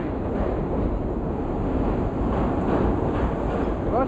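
An R42 subway train on the J line arrives at Chambers Street, rumbling steadily through the whole stretch, a dense low roar with faint rail clatter and a brief wheel squeal near the end.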